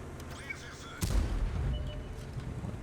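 Artillery fire in the World of Tanks video game: a single deep boom with a rumbling tail lands suddenly, fairly faint and distant beneath a low game background.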